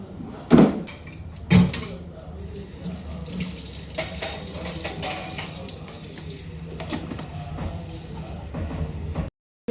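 Water from a tap running into a kitchen vessel while making modak dough at home, a steady splashing flow with a couple of sharp clinks of pots near the start and faint voices in the background.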